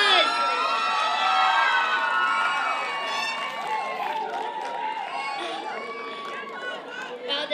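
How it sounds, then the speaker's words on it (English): A pageant crowd at Miss Asia Fest in Tampa, Florida cheers and shouts loudly and continuously, with excited voices and chatter mixed throughout and slowly fading toward the end. "Let's give her a round of applause."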